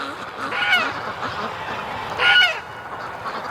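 A flock of Muscovy ducks flying past gives two short bursts of honking, quacking calls, fairly close, over a steady rushing background.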